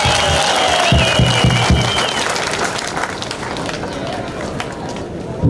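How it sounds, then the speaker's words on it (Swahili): A crowd in Kibumba, DRC, ululating at a public gathering, high trilling voices rising over crowd noise and a few claps, loud and close, with talk mixed in. "Tupige kwanza vigelegele sana vizuri."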